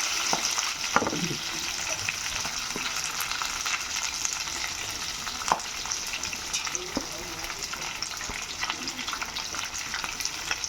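Onions dropped onto curry leaves in hot oil for beans fry, a dense continuous sizzle with occasional clinks of a utensil, close by, and faint voices now and then underneath.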